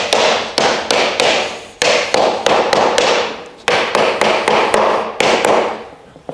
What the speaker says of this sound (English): Hammer it into place